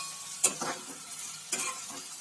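Two hundred grams of okra cut into small pieces tips into a hot pan for a Tirunelveli-style pachadi, two sharp stirring scrapes standing out over a soft, steady sizzle.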